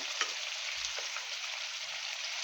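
Chicken tikka pieces fry softly in a pan as ground masala goes in, a faint steady sizzle with a couple of light scrapes and a low thump.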